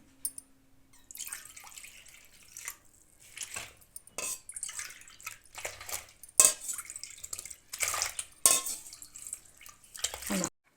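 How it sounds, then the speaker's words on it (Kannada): Intermittent splashing and dripping as five ladles of water are poured into rava onion dosa batter, with clinks of utensils against a bowl, close by, in uneven bursts. "ಇಲ್ಲಿ ಇದಕ್ಕೆ ಐದು ಬಟ್ಲು ನೀರು ಸೇರಿಸ್ತಾ ಇದ್ದೀನಿ"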